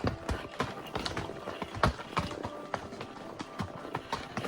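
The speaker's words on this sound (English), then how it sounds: "Glad I got my trusty Casper with me. He will get us through the rocks" A big horse's hooves clop steadily over a rugged, rocky trail. The strikes are close and irregular, with scraping and clatter on stone and no voices.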